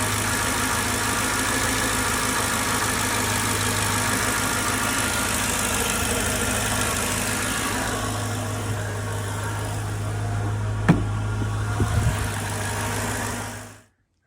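2004 Mercedes C55 AMG engine idling while warming up, a steady low hum with constant drone, close and even for most of the time, a few brief knocks near the end before cutting off abruptly.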